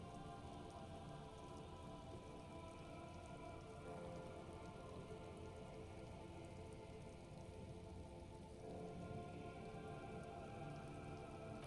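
Rain falls steadily in Disco Elysium, an even, soft hiss of drops on surfaces that runs continuously and quietly throughout.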